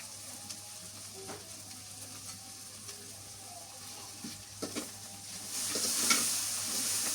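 Garlic paste and turmeric powder go into a sizzling pan in a village kitchen. Quiet scraping and stirring build into a louder, hissing sizzle near the end, with no voices.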